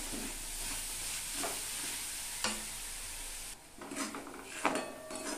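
Jaggery filling for puli pithe being stirred in a pan over low flame, with soft scraping strokes and a faint sizzle; a few sharper spoon knocks against the pan stand out near the end.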